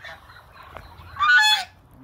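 A goose gives one loud, nasal honk lasting about half a second while being fed overripe banana alongside ducks and turkeys. It is close by, and quieter rustling comes before it.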